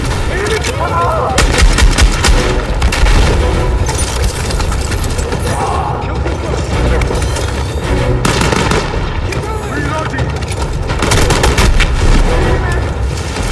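Battlefield 6 combat gunfire: dense, sustained bursts of rifle and heavy weapon fire with booming explosions, loud and continuous throughout, with shouted voices mixed into the battle din.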